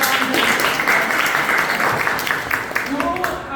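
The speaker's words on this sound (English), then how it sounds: "So can you give a round of applause for" Audience applause fills the whole stretch, a steady wash of many hands clapping with voices mixed in.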